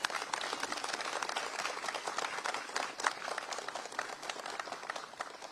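Audience applause at a Texas governor's economic development announcement, a steady, moderately distant wash of many hands clapping that holds evenly for several seconds without talk.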